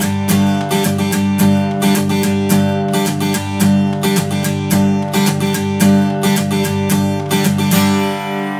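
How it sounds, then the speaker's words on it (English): Acoustic guitar played in a steady strumming pattern, down strums on the first two beats followed by quick up-down-up strokes, loud and close with a regular rhythmic pulse and no talking. "so now here's strumming pattern number 2."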